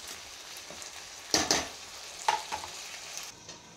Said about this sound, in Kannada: ಇವಾಗ ಇದು ಫ್ರೈ ಆಗ್ತಾ ಇದೆ.